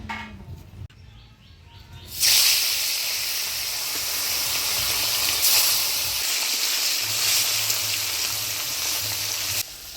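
Bata fish drops into hot oil in a pan and bursts into loud, steady sizzling that holds evenly for several seconds, with a faint background hum beneath and no talking.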